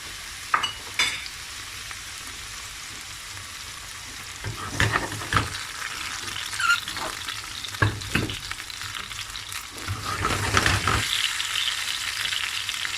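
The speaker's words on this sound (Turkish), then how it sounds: "Bunları bir 5 dakika soteleyeceğiz" Tomatoes sautéing in a small amount of hot oil in a heated pan, a steady close sizzle with occasional louder bursts and scraping stirs throughout.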